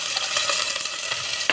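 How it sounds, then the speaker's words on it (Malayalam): Ginger, garlic, shallots and chilies sauté in butter in a pan, giving a close, steady, bright sizzle with faint crackles throughout and no voices. "അതിലേക്ക് കുറച്ച് ഇഞ്ചി, വെളുത്തുള്ളി, ചുവന്നുള്ളി, 2-3 കാന്താരിയും ചെറുതായി അരിഞ്ഞിട്ട് ഇതൊന്ന് മൂപ്പിച്ചെടുക്കാം"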